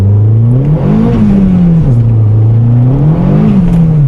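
A boosted Corsa B with a turbocharged C20LET engine accelerating hard on a road, a loud, close engine note climbing, dipping briefly at gear changes and climbing again, heard from inside the car.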